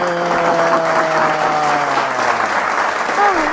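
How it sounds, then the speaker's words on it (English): Audience applause at a live podcast taping, steady broadband clapping throughout with a voice speaking over it and a melodic tone sliding at the end. "Can we get a round of applause?"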